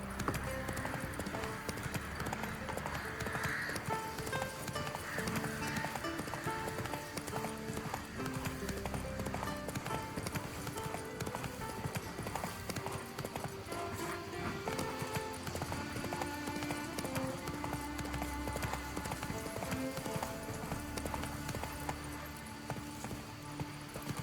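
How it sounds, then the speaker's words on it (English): Horse hooves clip-clopping steadily in The Witcher III: Wild Hunt, a continuous rhythmic trot under game music, with an occasional neigh. "Whoa there, Roach"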